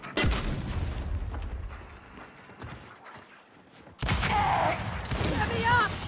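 A grenade blast and bursts of gunfire in Gears 5 free-for-all, a heavy boom early on, then rattling shots, with a louder burst of combat noise near the end; voices talk over parts of it.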